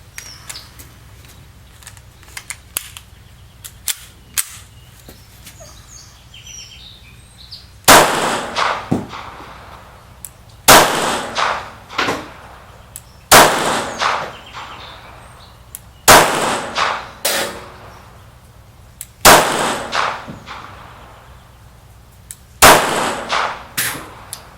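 A P-64 pistol fires 9x18 Makarov rounds outdoors: after a quiet start, several sharp, loud single shots ring out at irregular intervals of a few seconds, each followed by a brief echoing decay.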